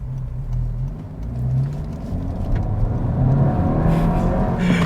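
Engine of a 2022 Honda Civic Si with manual transmission while driving, a steady loud interior hum that rises in pitch as it accelerates, with road and wind noise.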